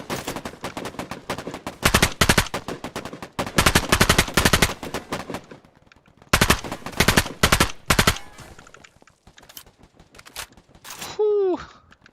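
Loud bursts of automatic gunfire crackle in a military simulation game, several rapid volleys separated by short pauses, followed by scattered single shots and a rising whine near the end.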